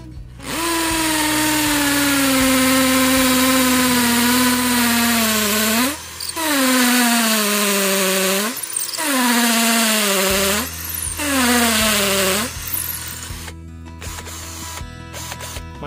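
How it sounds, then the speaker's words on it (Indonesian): A 20 volt cordless impact drill with a 6 mm masonry bit bores into cast concrete, a loud whining motor with hammering rattle in several long bursts separated by brief pauses. "selanjutnya kita akan mengebor cor-coran ya, ini semen cor-coran menggunakan mata bor tembok ukuran 6 mm"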